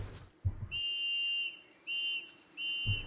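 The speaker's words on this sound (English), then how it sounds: "when the deer creature is so far away, you can use your whistle" A whistle used to call a deer creature in the video game Decay of Logos: three sustained, steady high tones, the first long and the next two shorter, with faint low thumps around them.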